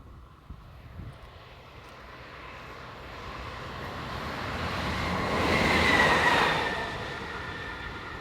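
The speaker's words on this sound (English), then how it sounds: "Heading south is Class 285 diesel number 117, operated by Captrain." A Class 285 diesel locomotive, number 117 run by Captrain, heads south past a spot near Jessen, Germany: a broad rumbling roar builds gradually, peaks loudly as it passes, then eases slightly while still rolling on.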